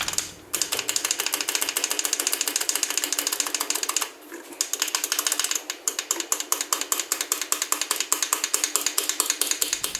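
Rapid metallic tapping on a bar to drive out a Harley Touring shift lever bushing, a fast continuous clatter that pauses briefly near four seconds and resumes, close and moderately loud.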